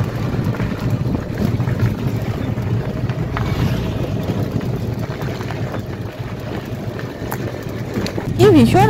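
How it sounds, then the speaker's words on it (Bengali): Strong outdoor wind buffets the microphone in a steady low roar across rural marshland near a railway line, with a faint brief whistle-like tone near the end. "ভীষণ হাওয়া গো"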